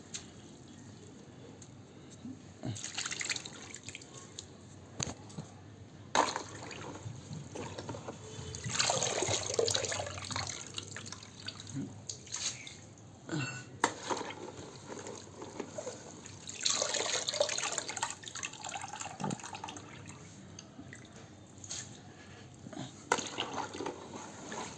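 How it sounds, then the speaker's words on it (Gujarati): Something is washed by hand in a second change of water in a home kitchen, with intermittent splashing and sloshing in bursts between quieter pauses, fairly close but soft. "હવે આપણે બીજા પાણીમાં ધોવાના છે"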